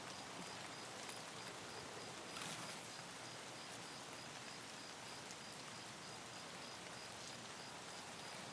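Steady, even hiss of rain falling in Escape from Tarkov on the Streets of Tarkov map. The rain stays faint and constant throughout, with no talking and no other clear sounds.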